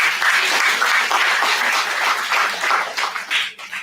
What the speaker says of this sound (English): Let me have a big round of applause for them.